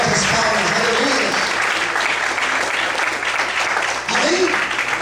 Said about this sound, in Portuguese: Mais fortes palmas